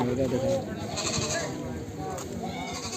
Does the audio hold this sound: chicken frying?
no